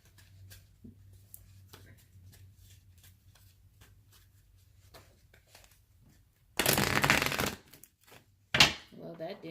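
Tarot cards are shuffled by hand during a reading, a soft riffling and patter of card edges, quiet at first, then a loud, dense burst of flicking cards, followed by a sharp knock and a brief voice.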